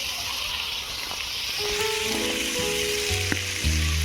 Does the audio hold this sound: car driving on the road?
no